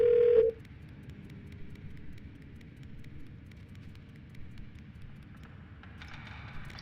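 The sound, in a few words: parser in a video game beeping like a phone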